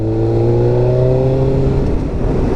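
A Suzuki GSX-R 600 sport motorcycle engine accelerates under way, its loud, close mechanical tone climbing steadily in pitch with no speech over it.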